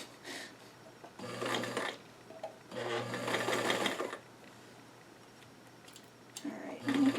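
A sewing machine stitches doll-sized five-pocket jeans, running in short bursts of steady rapid whirring separated by pauses, close and clear, with faint handling sounds between runs.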